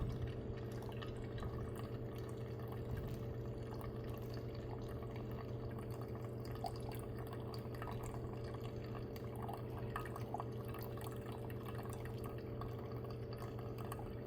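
Hot water trickles in a faint, steady stream over coffee grounds during a single pour-over brew of a washed Kenyan light roast, with soft dripping throughout and no talking.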